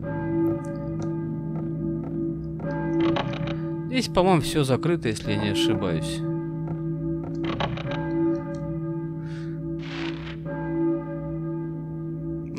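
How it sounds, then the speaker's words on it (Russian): A bell tolls with a long, sustained ringing hum in the PS1 game Silent Hill (1999), in a school area. Footsteps and sharp effects cut in, and someone talks quietly over it. "звук колокола."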